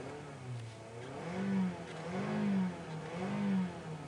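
A new Toyota Camry engine revs under the accelerator, rising and falling in several smooth surges with a steady mid-pitched hum between them, recorded close with no talk.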